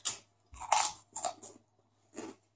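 Close, crisp crunching of crunchy food being bitten and chewed during a roulette eating challenge, four separate bursts of crackling bites spaced by short quiet gaps.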